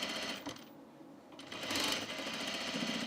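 Sewing machine stitching a men's button-up shirt, a steady mechanical whir with a brief dip in the middle before running on at a close, even level, with no talk.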